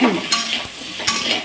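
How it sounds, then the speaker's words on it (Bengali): Pieces of lightly boiled taro fry in a little hot oil in a pan, a close steady sizzle broken by a couple of sharp scrapes of a spatula. "এখানে একটুখানি তেলের মধ্যে ভেজে দিই"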